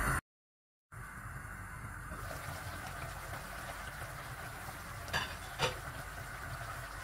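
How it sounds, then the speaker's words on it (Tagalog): Chicken curry simmers in a covered pot with a steady soft bubbling hiss, quiet and continuous after a brief silence, with a couple of faint knocks near the end. "let's simmer until it becomes soft for almost 15 minutes"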